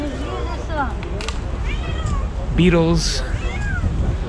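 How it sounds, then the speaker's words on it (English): A stuck cat meows repeatedly in a city street in Lviv, Ukraine, several drawn-out cries close by, with a person speaking briefly over them. "A stuck cat."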